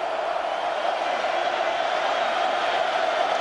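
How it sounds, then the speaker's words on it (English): A large college football crowd at Autzen Stadium in Oregon, with Oregon hosting Boise State in 2008, roaring as a steady, dense wash of noise from the stands that holds evenly throughout. "And here comes the Autzen crowd."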